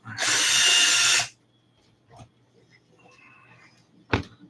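A power drill spins up loudly for about a second, breaking the head off a screw on an RC car, then stops, followed by quiet handling clicks and a short sharp knock.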